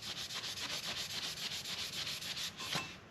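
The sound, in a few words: sanding a dune buggy body before painting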